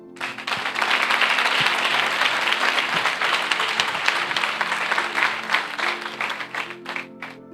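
A church congregation applauds steadily for several seconds, a dense, loud wash of many hands clapping together that tapers off near the end, with no speech over it.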